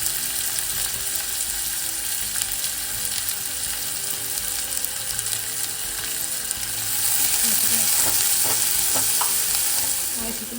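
Onions sautéing in hot oil with mustard seeds and curry leaves give a steady, close sizzle with intermittent stirring scrapes, growing slightly louder and brighter toward the end.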